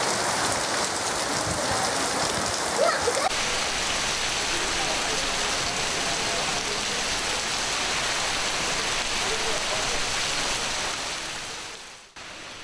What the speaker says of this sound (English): Both the talukas witnessed sudden heavy showers of rainfall